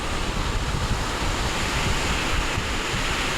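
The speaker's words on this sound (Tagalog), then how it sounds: "Magandang hangin dito, lalo na pag umaga." Steady sea breeze rushes over open water at the seaside with a constant roar of surf and wind buffeting the microphone, no voices.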